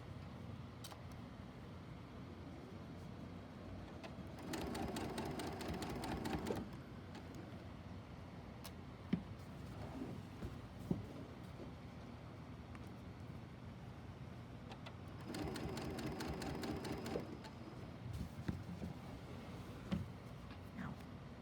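Sewing machine stitching binding onto a tree skirt, two short buzzing runs of rapid stitches over a quiet low background hum with a few faint clicks, fairly soft and close.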